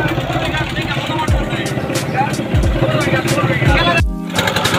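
Motor of a boat pulling away at the start of a river trip, a steady rumbling engine with a few low thumps, heard close under people chatting.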